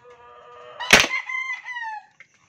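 A single chicken gives a loud, close, drawn-out call with a sharp burst near the start and a wavering tail lasting about a second, then a brief faint sound before silence.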